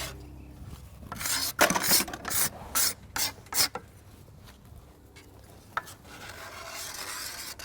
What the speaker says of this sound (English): See if this card scraper works any better for you.